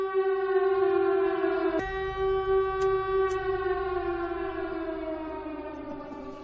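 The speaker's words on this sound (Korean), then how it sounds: "사이렌이 울리고 주변은" A civil defense siren wails steadily, a loud sustained tone slowly falling in pitch, with a couple of sharp clicks partway through.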